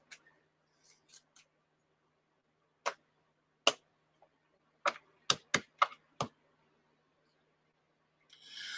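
Playing cards handled and shuffled at a table, heard as a scattered run of crisp, sharp clicks and snaps with quiet gaps between them, close and alone.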